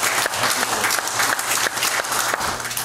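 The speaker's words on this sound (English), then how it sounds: "Give the Lord a hand clap." A church congregation applauding with hand claps, a loud continuous crowd of clapping hands that carries steadily throughout with faint voices underneath.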